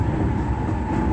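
Inside a JR E217 series car, KuHa E217-23, running as a rapid train bound for Soga, a steady, loud rumble of wheels and motor fills the short stretch with no break.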